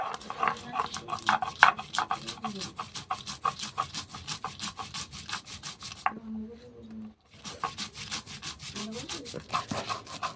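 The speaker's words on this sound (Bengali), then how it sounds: "সর্ষে পোস্ত গুলো ভালো করে এবার বেটে দেবো শিলনোড়াতে" Mustard and poppy seeds being ground on a stone slab with a grinding stone, a steady run of rhythmic, close scraping strokes that pauses briefly before resuming, with no talk.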